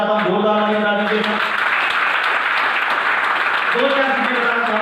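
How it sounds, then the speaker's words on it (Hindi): A meeting crowd in Tohana breaks into loud, dense clapping that swells in the middle and dies away. Someone talks before and after the applause. "जोरदार ताली बजा दीजिए"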